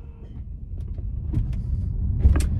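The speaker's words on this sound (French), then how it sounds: "on va attendre qu'elle arrive à garer sa voiture, apparemment elle a du mal" A car slowly manoeuvres into a street parking space nearby, giving a low rumble and whirring motor tones that build slightly, with no talk.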